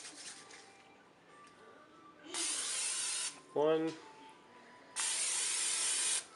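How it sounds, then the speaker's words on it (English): Two sustained hissing bursts of cooking spray onto the top and bottom plates of a waffle maker, each lasting about a second, with a short spoken word between them. "So I'm going to use a cooking spray, top and bottom."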